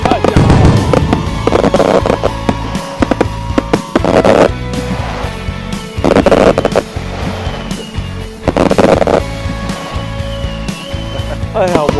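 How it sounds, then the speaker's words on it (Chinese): At a fireworks show, bursts pop and crackle in loud, irregular clusters, with sharp bangs and lingering fizzing between them, while people exclaim and chat nearby. "我都好久没看见这么好看的烟花秀了"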